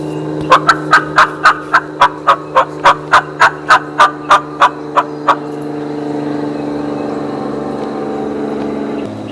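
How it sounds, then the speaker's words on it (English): A wild Osceola turkey gobbles in a swamp with an oak hammock nearby, giving a rapid rhythmic rattle of about fifteen pulses over a steady engine-like hum. The hum carries on alone afterward. "Another gobbler right there inside that swamp and that oak hammock in there."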